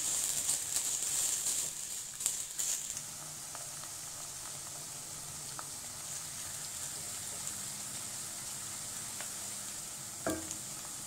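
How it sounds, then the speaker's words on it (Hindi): Onions frying in a pan for an Indian-style aloo curry, a steady close sizzle throughout with a few faint clinks of stirring and no talk. "प्याज फ्राई हो रहे हैं"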